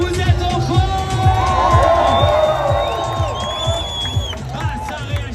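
A crowd at the Paris marathon answers an announcer with loud, sustained cheering and whoops mixed with some clapping, while upbeat music with a steady beat plays underneath.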